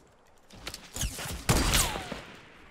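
Mini-gun fire in Fortnite comes in a few rapid bursts of gunfire, with whooshing sweeps and clatter between them, fairly faint overall with no talk over it.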